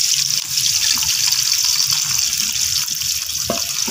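Onions hitting hot ghee in a pan and starting to fry, a steady loud hiss of sizzling with faint crackles throughout, no voices.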